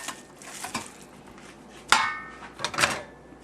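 Kimchee ingredients stirred by hand in a bowl or pot, giving intermittent scraping and clinking of utensil against the container, with a few sharper knocks standing out, close and fairly quiet.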